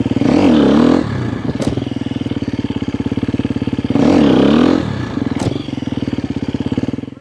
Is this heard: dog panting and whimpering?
no